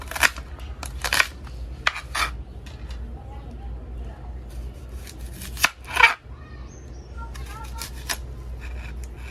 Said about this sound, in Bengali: পেঁয়াজগুলো প্রথমে বড় বড় করে কেটে এটা চপারের সাহায্যে চপ করে নেব।